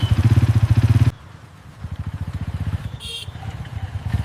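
A motorcycle pulls up and comes to a stop, its engine pulsing loud and close at first, then dropping to a softer rhythmic idle thump with a brief higher-pitched squeal partway through.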